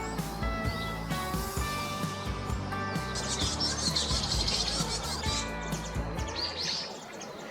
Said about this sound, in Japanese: こちらはヤマガラという野鳥です。